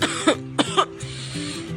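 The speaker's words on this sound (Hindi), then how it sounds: "डॉक्टर ने हल्का खांसते हुए कहा" A doctor gives three light, short coughs in quick succession, close and clear, followed by a soft lingering murmur.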